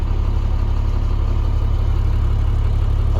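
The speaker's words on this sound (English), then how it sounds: "The engine sounds great." A loud, steady low rumble of a 2011 International PB105 short school bus's diesel engine idling, continuous and even throughout with no talking.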